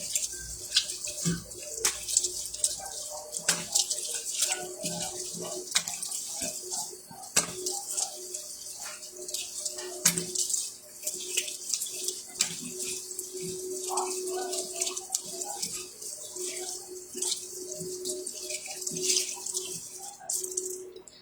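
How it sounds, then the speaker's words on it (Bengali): Tap water runs steadily while someone rinses their face at a sink, with a constant hiss and faint splashes and drips throughout. Now and then a voice murmurs quietly beneath it. "আচ্ছা, নাও এখন আমি ধুয়ে ফেলতেছি।"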